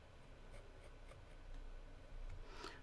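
A pen or pencil shades a drawing on paper with soft, faint, close scratching strokes repeating steadily, with no voices.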